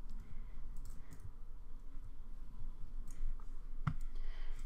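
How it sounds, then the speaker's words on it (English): A computer mouse is spam-clicked during a speed-build match, with soft, fast clicks running in uneven bursts under a steady background hum. "Just spam click your mouse."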